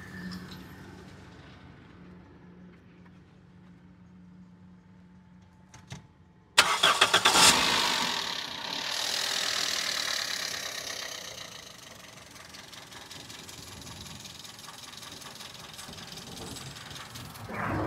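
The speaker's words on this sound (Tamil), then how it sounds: "இன்ஜின் ஸ்டார்ட் பண்ணுவாங்க" Car engine starting up after a quiet stretch with a faint hum, a sharp cranking burst then catching and settling into a steady, fairly loud idle that continues to the end.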